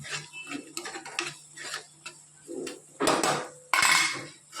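Paneer and capsicum are mixed in a pan, with irregular clinks and scrapes of a spoon against metal, growing louder toward the end.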